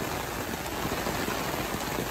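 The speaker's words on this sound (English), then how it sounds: "Just seems to be a bit of a rain event at the moment." Steady rain from Hurricane Milton hisses down continuously, a dense, even patter close by with no voices.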